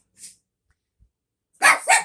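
Small chihuahuas at home give a faint short yip, then a pair of loud, close, rapid barks with a howly edge, with a quiet pause between.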